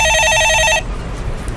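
A telephone rings in a studio with a bright electronic trill that lasts under a second and then cuts off, leaving quiet room tone.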